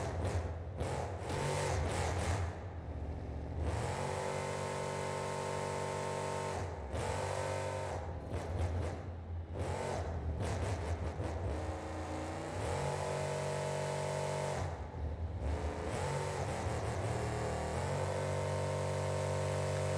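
A monster truck engine in BeamNG.Drive held at full power in second gear while drifting on dirt, a loud sustained buzzing roar with rhythmic dips and surges as revs rise and fall.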